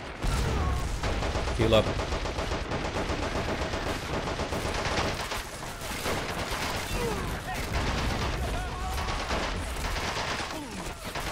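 Sustained battlefield gunfire in the World War II strategy game Men of War: Assault Squad 2, with dense machine-gun bursts and rifle shots running continuously throughout while someone speaks briefly.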